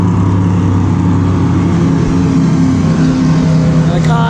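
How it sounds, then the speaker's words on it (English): A BMW race car at the Spa 24 Hours rolls into the pit lane at dawn, its engine a loud, steady droning hum with a slight rise near the end. "And the car is just coming in now"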